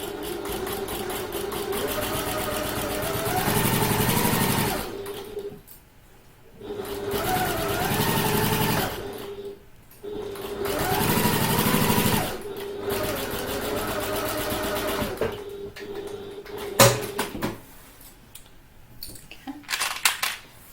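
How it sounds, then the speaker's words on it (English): A domestic sewing machine runs steady top stitching along the edge of a handbag, humming in long runs with short stops between passes while someone talks over it. "Now we're going to whiz along there with a top stitch, close top stitch."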